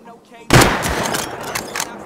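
Gunfire in the survival game Rust bursts in suddenly after a quiet lead-in, a rapid string of loud close shots with a few trailing cracks, while players talk over it.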